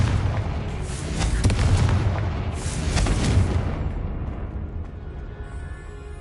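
A Confringo spell explosion in the video game Hogwarts Legacy: a couple of heavy booming blasts close together, then a rumbling tail that fades out, with no talking.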